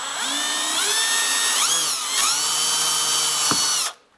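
A power drill bores out a Welch plug on a carburetor, spinning up and changing pitch in short whining bursts over about four seconds, loud and close, then cutting off abruptly.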